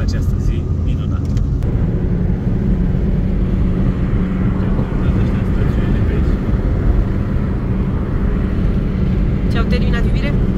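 An Opel Corsa engine strains as it climbs the Transalpina mountain road, a loud continuous rumbling drone heard from inside the car, with people talking over it.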